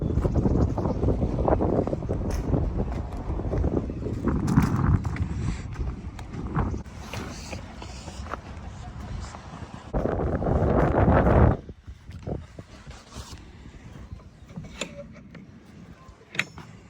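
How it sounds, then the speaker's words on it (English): Wind blowing across an open farm and buffeting the microphone, a loud steady rumble with gusts that rises to a strong blast before dropping to a quieter, gustier stretch with scattered small knocks. "The wind is really hindering my filming today"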